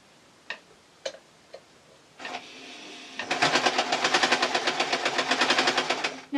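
A basic modern sewing machine stitching a French seam on a tee shirt dress: a few isolated clicks, a brief whir, then a fast, evenly pulsed mechanical chatter of stitching, close and fairly loud.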